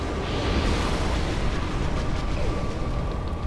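Fire roaring in the Dark Souls video game, a dense, loud, continuous rushing burn with a low rumble that holds steady throughout without any talk.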